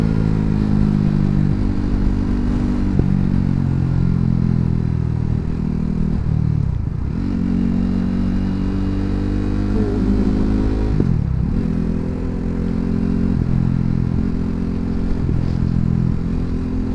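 A superbike engine roars close by in Italy, its pitch climbing through several quickshifted gears with brief dips at each shift, loud and sustained throughout.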